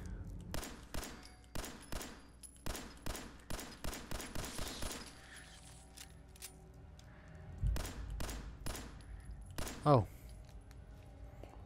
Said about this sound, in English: now I can shoot. Bring the gun to eye level and aim